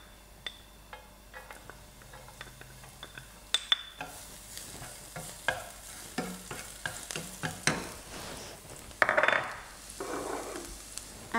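Minced garlic sizzling and frying in hot cooking oil in a wok for pineapple fried rice, with steady crackle, scattered spoon-and-pan scrapes and clinks, and a louder sizzle burst as it is stirred, close and alone.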